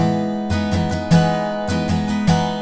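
Alanis Morissette's "Ironic" intro played on solo guitar, a steady run of plucked notes and chords in a repeating rhythm, close and clear with no voices.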